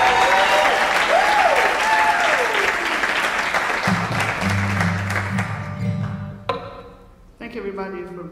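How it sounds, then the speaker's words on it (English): Sustained, dense audience applause after a live performance of a blues song, loud and steady throughout and thinning toward the end. "If you give him another round of applause,"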